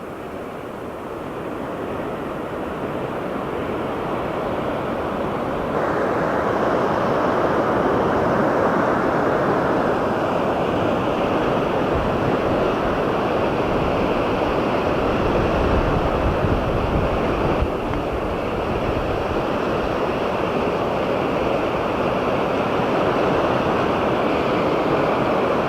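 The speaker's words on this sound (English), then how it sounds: "give you an idea of the speed this water is rolling" Floodwater rushes fast past an old canal in Champlain, a broad, continuous roar of churning water mixed with wind buffeting, steady and loud for the whole stretch with no talk.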